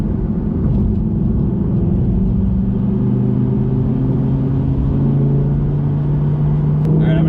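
A 2020 Audi R8 V10 accelerating, a deep steady engine rumble with a slowly rising and shifting tone under road and wind noise, loud and continuous.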